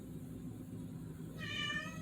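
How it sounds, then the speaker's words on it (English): A pet cat caterwauls indoors, wanting to be let outside; a single drawn-out, wavering yowl rises near the end over steady low background hum. "my cat is caterwauling. She wants out."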